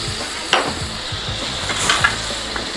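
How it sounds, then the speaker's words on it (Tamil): Salted tomatoes sautéing in a pan with garlic for a seer fish curry, a steady soft sizzle with a couple of stirring scrapes, close and alone. "உப்பு போட்டாலே தக்காளி நல்லா வதங்கிட்டு இருக்கு நமக்கு."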